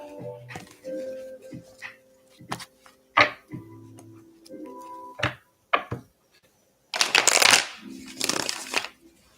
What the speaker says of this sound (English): I'm just going ahead and shuffling these cards right now.